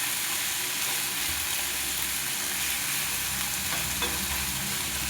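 Hot cooked rice with green chillies sizzles and fries steadily in a pan, a continuous close crackling hiss with occasional stirring scrapes and no talk.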